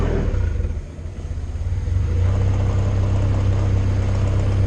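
Mayco C30 concrete pump engine running steadily at close range, a continuous loud low rumble that dips briefly then settles into an even drone, with no talk.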